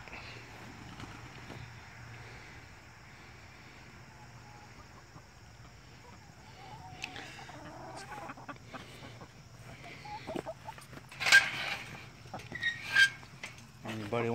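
Backyard chickens cluck softly and sporadically nearby, the calls growing louder and busier toward the end as footsteps shuffle around them.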